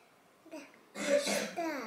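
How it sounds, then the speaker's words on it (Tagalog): A sick child coughs at home, a faint short hack followed by a louder throaty cough with a rasping, voiced edge, close by in a quiet room. "nag-ubo"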